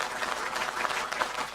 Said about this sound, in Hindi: जोरदार तालियां बजाकर इस युवा गीतकार का